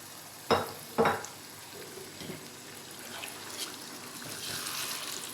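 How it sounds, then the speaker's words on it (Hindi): About a cup of water poured into beef kofta curry gravy in a hot pan, with two sharp splashy hits followed by a steady low sizzle and bubbling, close and fairly quiet. "तकरीबन 1 कप पानी का डाल रही हूँ।"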